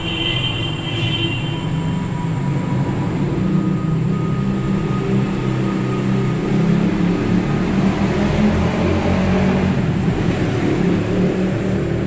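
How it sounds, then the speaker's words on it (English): Traffic roaring outside a window, a continuous low rumbling wash of passing vehicles heard from indoors, steady and fairly loud without breaks. "traffic is heard roaring out the window"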